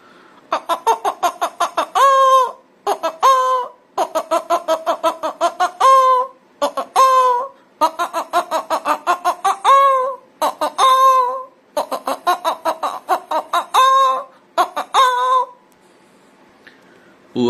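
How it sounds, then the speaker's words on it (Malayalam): A hen cackles after laying an egg, with long repeated runs of quick staccato clucks, each run capped by a stretched squawk. The calls are loud and close and go on steadily for about fifteen seconds before falling quiet. "കോഴി മുട്ടയിട്ടതിന് ശേഷം എങ്ങനെയാണ് കൊക്കുന്നത് നോക്കാം"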